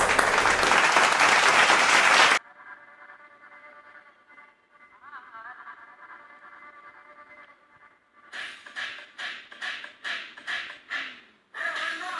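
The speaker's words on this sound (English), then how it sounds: "Let's welcome them with a huge round of applause." Audience applause at a KG 2 graduation ceremony: a loud burst of clapping at the start cuts off abruptly, followed by quiet tonal music, then a series of rhythmic clapping bursts returning near the end.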